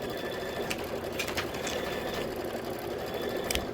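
A sewing machine runs a quilting stitch on a pillow block in a continuous, even hum with faint mechanical clicks, close by and moderately quiet.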